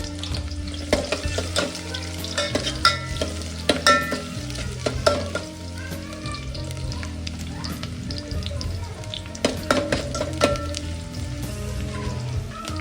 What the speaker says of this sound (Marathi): सो हे बघा, तेल तापलेलं आहे.